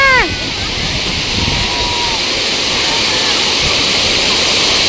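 Waterfall near Thaiyur lake with water flowing heavily, heard as a loud, steady rushing roar close by, with a few faint chirps near the start.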